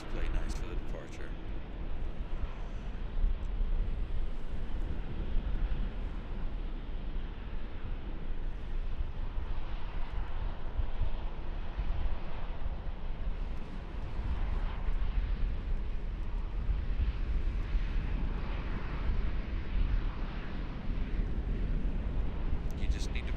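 At Raleigh Durham International Airport, a departing airplane makes a steady, broad roar and rumble heard from a distance for the whole stretch, with wind buffeting the microphone.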